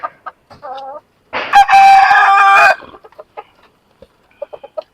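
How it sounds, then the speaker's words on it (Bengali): Local desi chickens cluck in short bursts, then a loud, close rooster crows for about a second and a half, followed by more scattered clucking from the flock. "আর এই পাশে হচ্ছে টাইগার মুরগি।"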